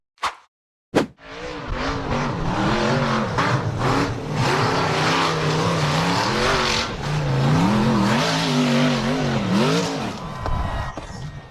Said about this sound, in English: The blue buggy weaved through the dry bushes and then immediately hit the gas to tackle a short but very steep slope.